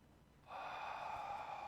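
Deep, steady breath drawn in during a yoga session of standing poses and backbends, rising suddenly to a sustained airy hiss that holds close and even for over a second.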